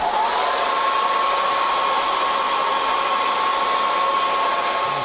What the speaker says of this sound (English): I'll take my hair dryer and dry it up.